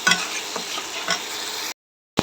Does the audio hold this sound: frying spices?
yes